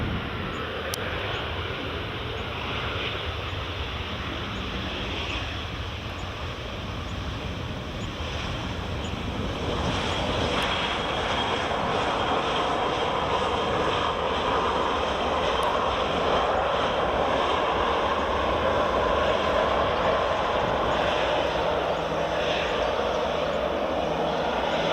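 A passenger plane touches down on runway 06 at Edinburgh Airport, heard as a broad, continuous engine roar that builds slightly and stays loud and steady, blended with wind rush across the open airfield.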